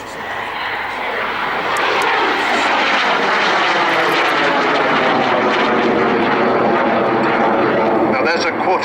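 A BAC Jet Provost jet trainer flies an airshow display at Cosford, its loud engine roar swelling as it passes, with a sweeping whine rising and falling as it manoeuvres overhead.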